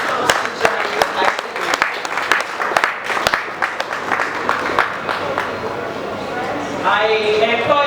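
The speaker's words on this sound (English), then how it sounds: "Let's give him a resounding applause as he comes to join us" Crowd applause with scattered sharp claps throughout, moderately loud, fading as a voice begins speaking near the end.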